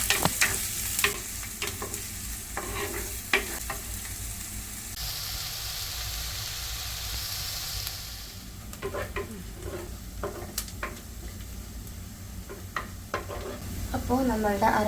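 Sliced onions sautéing in coconut oil in a clay pot for a Kerala-style prawn curry, a steady close sizzle with scattered stirring scrapes and clinks, a brief hiss surge midway and no talk.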